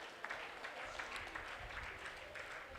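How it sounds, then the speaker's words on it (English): Summit attendees at a stakeholder gathering of the Oyo State Agency for Persons with Disabilities give a round of applause, a faint but steady patter of clapping from a moderate crowd. "Please, let's give a round of applause to the agency"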